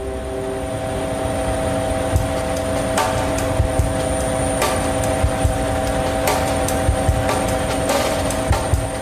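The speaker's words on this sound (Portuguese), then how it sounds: "O meu percurso começa num velho helicóptero Mi-17, uma relíquia trepidante da Guerra Russa." An old Mi-17 helicopter in flight: a continuous loud engine drone with rattling and rhythmic thumps, heard close up with no voices.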